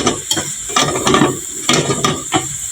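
Chicken and onion sautéing in a pan, loud close sizzling broken by repeated scraping and clacking strokes of a utensil, no talking.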